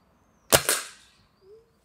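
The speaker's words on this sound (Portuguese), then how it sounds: "Segundo tiro com o Rocket Destroyer da Gamo." A single shot from a Rossi Dione 4G scoped air rifle firing a Gamo Rocket Destroyer pellet: a sharp, close crack with a quick double report, then a short fading tail and a faint later tick.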